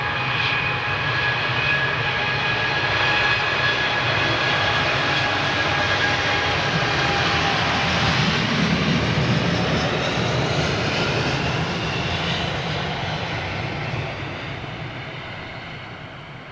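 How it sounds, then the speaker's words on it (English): Boeing 787 Dreamliner departing Heathrow, a loud, continuous deep engine roar and rumble that holds steady before slowly fading toward the end, with no talking. "That's more the standard sort of like long, full-length departure of the Dreamliner."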